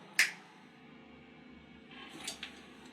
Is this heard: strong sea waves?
no